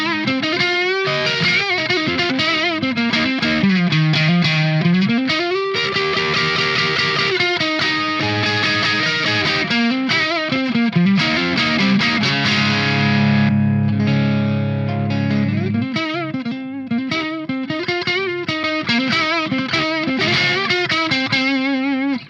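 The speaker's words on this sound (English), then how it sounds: "the tube is distorting now because we're hitting the tube with a bit more level and a mid boost" Electric guitar through a BOSS GE-7 EQ pedal with a mid boost into an overdriven tube amp, thick and crunchy with a pushed midrange, playing continuously with effects and a touch of reverb.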